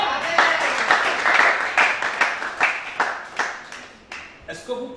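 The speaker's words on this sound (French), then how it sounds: "Acclamez chacun." A congregation claps at a night prayer vigil in Gabon, a steady run of close, sharp hand claps in an uneven rhythm that thins toward the end, with voices talking among them.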